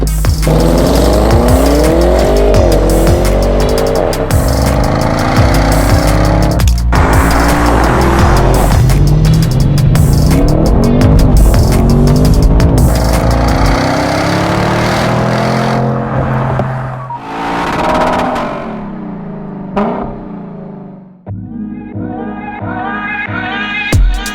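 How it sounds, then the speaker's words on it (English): An Audi RS6 Avant wagon's high-performance engine revs and roars loudly and continuously, with rising and falling pitch and tire squeal, then fades toward the end. "This is the Audi RS6 Avant, and it's a very special car."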